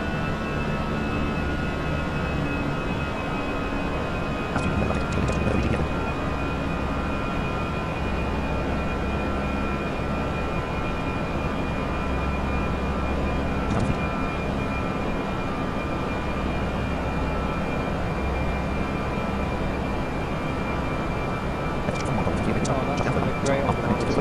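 An Airbus A321 climbs out after takeoff in the Prepar3D flight simulator on a flight from EGPF to LEMD, giving a steady roaring engine drone with a faint high whine, broken by a few brief clicks.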